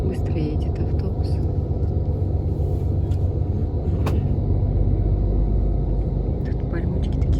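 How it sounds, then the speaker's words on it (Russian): Steady low rumble of a bus driving quietly along a road in Turkey, heard from inside, constant and droning, with faint voices underneath. "Тихо едет автобус."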